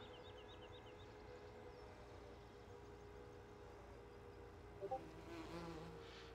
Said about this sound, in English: the sound of the bees won't get a copyright strike on my video